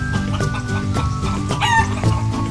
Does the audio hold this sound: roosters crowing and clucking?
yes